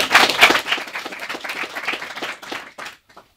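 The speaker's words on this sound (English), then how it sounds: "So let's have a round of applause." An audience at an enterprise showcase final gives a round of applause: a loud burst of close handclaps that thins out and trails off into a few last claps.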